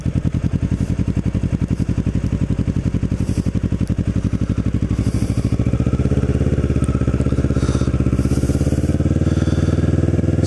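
Motorcycle engine running steadily during a summer ride near North Cape May, New Jersey, a continuous close, loud low rumble with rapid even firing pulses and no talk.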